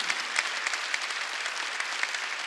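A church congregation claps together during a Sunday worship service, a steady, dense round of applause from many hands, moderately distant and alone without talk.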